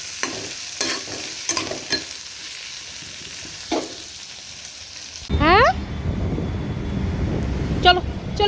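Potato and okra curry simmers and sizzles in a pan, with a few scattered stirring knocks. The cooking then gives way to voices and background noise.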